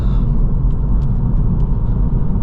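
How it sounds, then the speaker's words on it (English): A 2023 Acura Integra A-Spec rolls downhill on a bumpy road with a loud, steady cabin rumble of road and engine noise and a few faint knocks from the surface. "Road is super bumpy and we're going downhill, so we gotta get on the brake pretty often."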